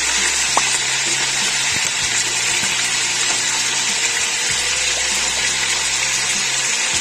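Butter chicken legs fry in a pan and get flipped to the other side, filling the scene with a loud, steady, close-up sizzle over a low background hum and a few dull knocks.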